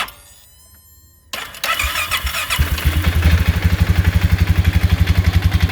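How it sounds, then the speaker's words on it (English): A CVT engine with a locked-up idler needle bearing in the center of the drive clutch starts and runs. After a brief whirring crank it catches, then revs with a loud, close, rapidly pulsing mechanical chatter. "the idler bearing, needle bearing in the center of the drive clutch is locked up. And you'll see when it runs here."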